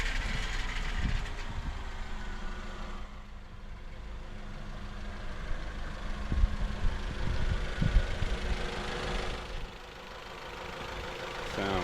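Honda CR-V engine idling after sitting unused for years, a steady low rumble throughout with a few rattles and knocks, and people talking briefly over it.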